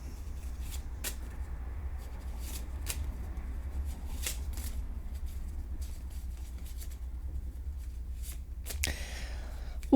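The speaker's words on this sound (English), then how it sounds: "Let's shuffle." Tarot cards are shuffled by hand in soft, repeated riffling bursts and light slaps, close and fairly quiet over a low steady hum, with a faint voice underneath.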